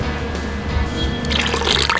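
Water, about 60 grams, pours steadily into a bowl for baking, a continuous liquid splash that brightens and fills out toward the end, with no talking.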